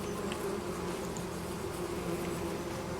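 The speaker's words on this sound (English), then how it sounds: "because we have bees here" Bees in Farming Simulator 25 give a continuous, steady buzzing drone, a close and even hum that holds at one level throughout, with no other sounds over it.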